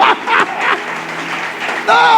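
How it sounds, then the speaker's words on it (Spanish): Audience applause at a Christian leadership congress, a short burst of clapping rising and falling in waves, mixed with a voice speaking over it and a clear voice at the end. "Dale un aplauso al Señor por esto."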